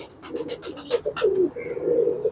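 Pigeons of fancy breeds such as Andhra Kalanka, kept in a loft, give soft, close, throaty coos in a few repeated phrases, with faint scratching and rustling around them.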